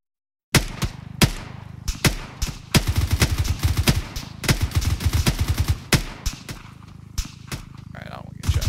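Gunfire in the military shooter game ArmA 3 crackles in sharp single shots and quick bursts against a lone infantryman. The loud, close reports repeat irregularly over the whole stretch.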